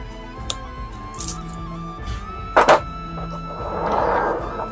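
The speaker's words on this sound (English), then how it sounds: "we're gonna use the branch cutter. And I'm gonna make a, see like that. I'm gonna make a cut in there." Branch cutter snipping into a larch branch while shaping a shohin bonsai, a few short crisp clicks and snaps close by, ending in a longer rustling scrape as the wood is worked.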